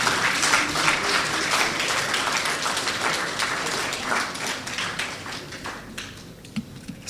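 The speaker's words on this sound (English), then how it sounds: "I think Bernard Avle deserves another round of applause." Lecture audience applauding, a dense, even burst of many hands clapping that gradually thins and fades toward the end.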